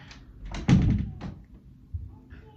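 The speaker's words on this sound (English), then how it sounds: "close the door" A door shuts with a dull thud amid faint voices and background murmur, followed by a quieter knock.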